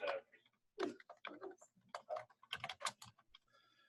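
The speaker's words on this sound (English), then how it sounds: "So I'm going to type in PY." Someone types on a computer keyboard, quiet, uneven clusters of soft key taps close by with brief gaps between bursts.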